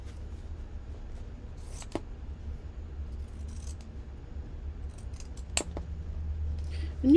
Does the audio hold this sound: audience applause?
no